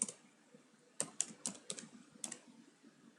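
Typing HTML code on a computer keyboard, a few quiet, close keystrokes in short irregular clusters with small gaps between them.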